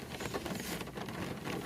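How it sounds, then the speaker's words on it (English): Rain falls outside in the Lincolnshire village of Navenby, a soft continuous patter of drops on surfaces, close and fairly quiet, with no one talking. "hopefully this rain will stop"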